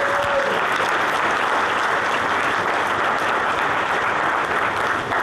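Audience at a church students' conference breaks into steady, dense applause to welcome a speaker, a continuous wash of clapping at full volume throughout.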